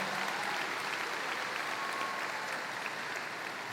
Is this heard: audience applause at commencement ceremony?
yes